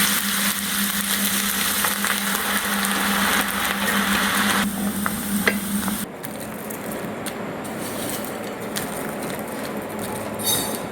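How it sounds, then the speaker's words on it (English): Chopped onion frying in a pan for a potato popcorn snack garnish, a steady dense sizzle throughout, with a faint low hum early on and a shift in tone partway through, no talking. "For garnishing purpose, I am adding little onion also, that I am going to fry it now."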